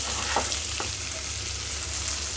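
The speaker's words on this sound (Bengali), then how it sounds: "কত যে ফাঁকিবাজিভাবে পটল ভাজি করি" Pointed gourd (potol) frying in oil with onion and green chili, a steady dense sizzle with a low hum underneath and a couple of faint utensil taps.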